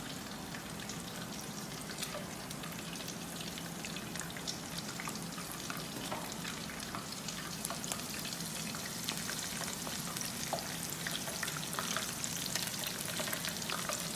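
Shrimp for camaron frying in hot oil in a pan, a steady dense crackling sizzle that holds evenly at close range throughout, with small pops scattered on top and no talking.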